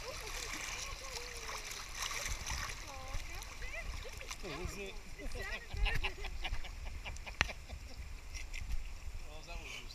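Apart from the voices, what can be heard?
river water splashing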